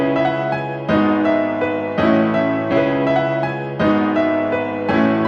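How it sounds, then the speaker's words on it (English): Solo Addictive Keys piano with effects plays a slow, sustained chordal melody for an emotional FL Studio beat, chords struck about once a second and ringing out, loud and unaccompanied. "So the piano by itself sounds something like this."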